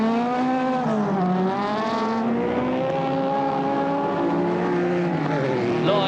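Rallycross cars racing at the 1985 British Rallycross Grand Prix: loud, continuous engine whine that rises and falls in pitch as the cars drive through corners, with possible faint tire squeal.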